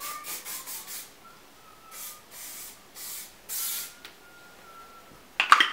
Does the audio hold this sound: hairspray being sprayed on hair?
yes